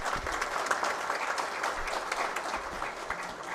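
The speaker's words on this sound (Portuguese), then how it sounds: "Recebe mais uma vez os aplausos de todos vocês." Audience applause at a national congress of state lawyers: an even wash of many hands clapping, fairly quiet and distant-sounding, sustained without pause for the whole stretch.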